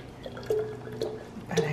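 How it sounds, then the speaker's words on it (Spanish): Water is poured into guava pulp while making guava agua fresca, heard as short dripping, splashing bursts close by. "Ahora hay que echarle el agua"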